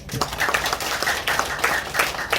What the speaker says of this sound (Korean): 맞는 거 같으면 박수 한번 쳐주십시오.